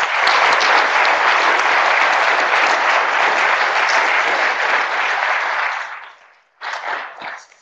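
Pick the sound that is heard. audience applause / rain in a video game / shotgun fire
audience applause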